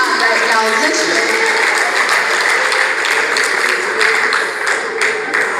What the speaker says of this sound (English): Please clap for yourselves, because you guys are all we have right now, literally.